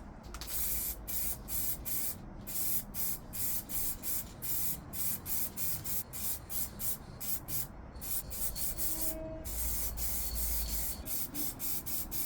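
Spray paint is applied in short, rhythmic bursts as a second coat on parts of a 1/14 Tamiya Grand Hauler model truck, each hiss about half a second long with short pauses between, close and steady.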